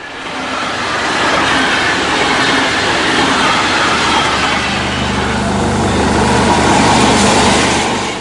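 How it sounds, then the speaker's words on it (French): A train rumbles steadily past at close range on the Paris line at Esbly, a broad continuous roar of wheels on rails with faint rhythmic clatter and no voices. "Les trains ont continué à rouler sur la voie contiguë"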